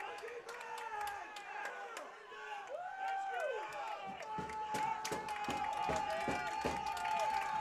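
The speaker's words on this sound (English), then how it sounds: "Crowd making some noise here, trying to get that defense fired up." Crowd noise at a high school football game: a chattering, cheering stadium crowd with scattered claps and whistles, voices in the foreground and a sustained horn-like tone building toward the end.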